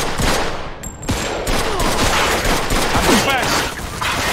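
A Mafia II shootout fills the scene with rapid, loud overlapping gunfire and ricochet whines, while a voice speaks briefly over the shots.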